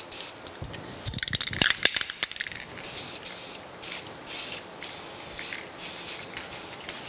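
A nearly empty spray paint can sputters out its last paint onto restoration parts for a New Haven metal planer: a rattly start, then a run of short, close hissing bursts with brief gaps between them.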